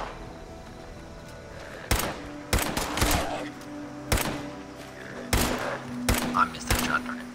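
Gunfire in the Fallout 76 video game aimed at a group of feral ghouls: several loud, sharp shots in irregular bursts, with a low background hum between them.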